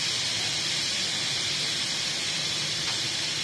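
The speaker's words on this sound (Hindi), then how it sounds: "अब मैं आपको बताऊंगी कि हमें प्रेशर कुकर को किस तरह खाली करना होता है प्रेशर से" Steam hisses steadily from a pressure cooker as its pressure is released while cooking beef stew, a loud, unbroken broadband rush filling the whole stretch with no talk.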